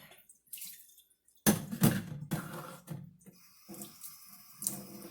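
Running water from a kitchen sink tap splashes over hands being rinsed during kimchi preparation, with several close bursts of splashing and dripping.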